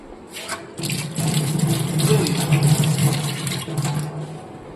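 Water runs steadily from a tap for several seconds as hands are washed beneath it, a broad continuous splashing rush with small shifts in flow.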